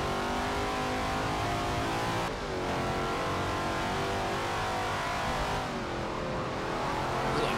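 A Cobra race car with a 7.0-litre V8 in Forza Motorsport 7 on the Nürburgring Nordschleife roars at full throttle, loud and continuous, with two brief gear-shift dips as the revs climb again.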